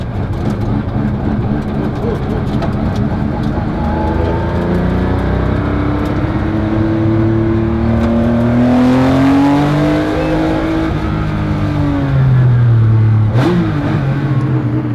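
A Porsche 911 Carrera RS engine revs and pulls hard, its pitch climbing and falling through the gears, loud and close, with a sharp rise near the end.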